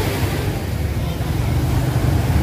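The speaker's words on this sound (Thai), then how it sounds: "ฟังเสียงคลื่นซัดสาดเข้ามาที่ชายฝั่ง" Waves wash onto the shore and break against rocks at Bang Saray Beach in Sattahip at sunset, a loud, steady roar of surf with wind noise and no distinct individual breakers.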